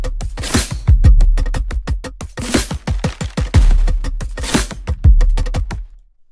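A dense, driving drum groove from the Berserkr tribal punk folk library is layered with a supportive rhythm. Rapid booming hits and bright crashing accents roll continuously before the sound cuts off abruptly at the end.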